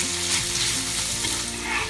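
Bacon fries in a pan with a bright, constant sizzle and crackle, close and loud, with faint low tones underneath and no talking.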